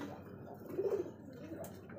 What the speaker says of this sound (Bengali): ডাকটাও দেখছে দর্শক, চমৎকার এক জোড়া সিরাজি কবুতর ইয়েলো কালারের মধ্যে লিট